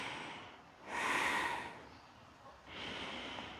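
Slow, deep breaths are drawn and released during a yoga session: a long airy inhale followed by a softer exhale, close and clear with no talking.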